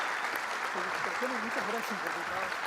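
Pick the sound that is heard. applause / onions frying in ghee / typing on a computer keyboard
applause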